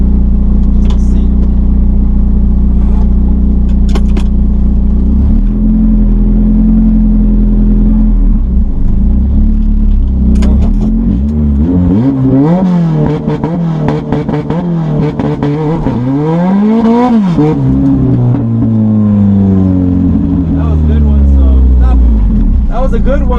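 A 1991 Honda CRX engine idles then revs repeatedly toward 4,500 RPM with the e-brake pulled, loud rising and falling surges close by, with a voice speaking over parts of it.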